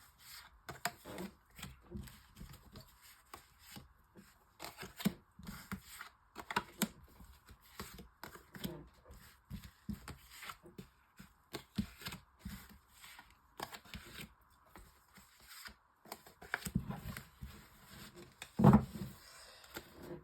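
Tarot cards shuffled and drawn for a nine-card spread, a steady run of soft riffling and sliding card sounds with small taps, close and fairly quiet, with no talking.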